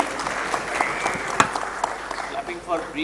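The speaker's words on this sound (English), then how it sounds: "Clapping for Breach for having thought of this topic" Audience applause after a panel discussion at a diabetes conference, steady clapping lasting about three seconds with some voices and scattered louder claps mixed in.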